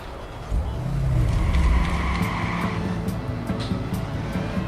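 A car driven through Chicago streets in the video game Watch Dogs, a steady engine hum with a brief tire squeal or skid near the start, fairly quiet throughout.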